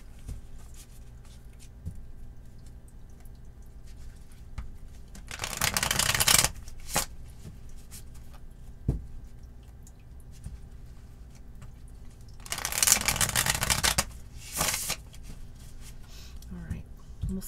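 A deck of Light Seer's Tarot cards is shuffled in two brisk riffling bursts a few seconds apart, near and fairly loud, with quieter handling noises between them.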